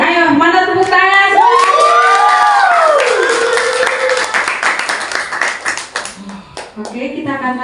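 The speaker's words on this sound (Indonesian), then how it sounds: "Ayo, mana tepuk tangan?" An audience at a school student-council election debate claps and cheers loudly, with voices whooping and calling out over scattered clapping that thins out toward the end.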